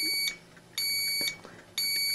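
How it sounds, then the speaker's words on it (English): A vintage Micronta 63-751 electronic alarm clock with green VFD display, from the late 1970s or early 1980s, beeps in short, evenly spaced pulses, a thin high-pitched tone repeating about twice per second at moderate volume. "There's the alarm."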